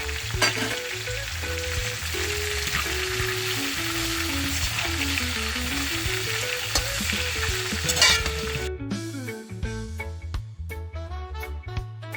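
Scallion, onion and tomato fried and stirred in a pot for Jamaican brown stew chicken, a steady close sizzle with scraping stirs under loud background music throughout, dropping briefly near the end.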